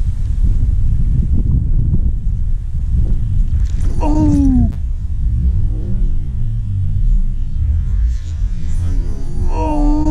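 Strong wind buffets the microphone out on the water during fishing, a steady loud rumbling roar filling the whole stretch, with a brief high chirp partway through.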